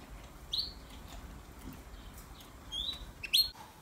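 Pet canaries, including slender Irish fancy birds, give a few brief high chirps spaced across the moment over a low steady room hum.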